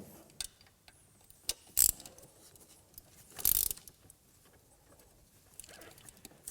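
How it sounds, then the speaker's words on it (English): A ratchet tightens the EGR valve bolts on a Land Rover Discovery, giving a few separate clicking bursts and short ratcheting runs spaced out over quiet workshop background. "Once both bolts are wound in, you can tighten them up."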